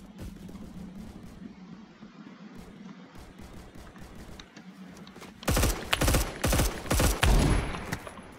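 Burst-fire gunshots from the video game Phantom Forces: quieter rapid shots early on, then loud clustered bursts crack close up during the last three seconds, with no voice.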